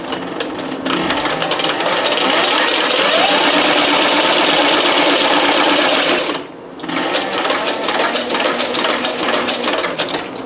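A sewing machine driven by a servo motor runs steadily at about half speed, a loud continuous mechanical whir with a rapid needle rhythm that briefly stops near the end and then starts again.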